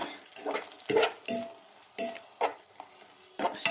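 Egg frying in a pan for a hotdog omelette, heard as short scraping stirs and clinks of a utensil against the pan with a faint sizzle between, close and without talk.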